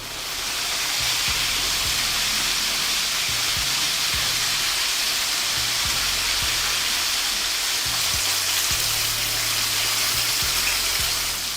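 Chicken wings deep-frying in hot oil, a steady loud sizzle and bubbling hiss, continuous and close, with no talking.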